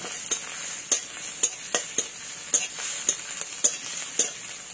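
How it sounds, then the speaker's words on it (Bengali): Green chillies and a five-spice tempering are stirred in hot oil, a bright close sizzle punctuated by a regular series of sharp spoon taps and scrapes against the pan, no voices. "কাঁচা লঙ্কা আর 5 ফোড়নটা হালকা একটু নাড়াচাড়া করে নেব।"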